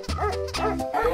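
A dog barks three times in quick succession, close and clear, each a short tonal yip with no other sound around it.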